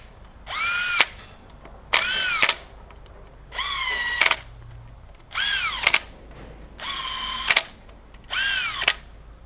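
Power drill driving screws into a car, six short whirring bursts in a steady on-off rhythm, each about a second long with a rising then settling whine and brief clicks, close and alone.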